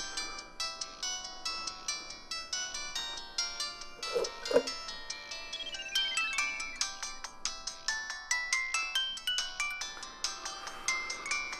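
A telephone announces an incoming call with a bright melodic ringtone that loops continuously for about eleven seconds, clear and unbroken, with no voices.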